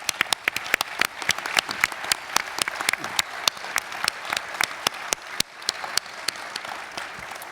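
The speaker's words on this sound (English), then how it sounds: "we would like to honor you now with our applause" Lecture audience at the 2014 ASMBS Mason Lecture applauds in honor of bariatric surgeon Dr. Edward E. Mason, sustained hall applause with sharp individual claps standing out, continuous for several seconds with faint voices beneath.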